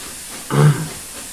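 Flying Scotsman steam locomotive in the Train Simulator 2015 game gives a single short hiss of steam, a brief breathy burst of about a third of a second standing out against a quiet background.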